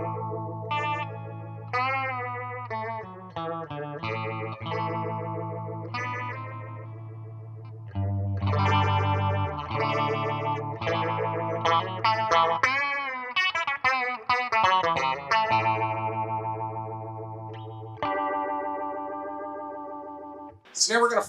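Guitar run through a Warm Audio Mutation Phasor II phaser pedal with depth at full and feedback off, sustained chords and picked runs sweeping and swirling, close and fairly quiet.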